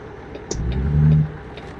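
A truck engine in a trucking video game hums and then revs up briefly, swelling to a steady mid-pitched drone before easing back, close and loud with no talk.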